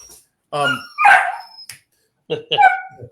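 A pet dog indoors gives a few sharp, loud barks and yips close by, in two short bursts with silence between.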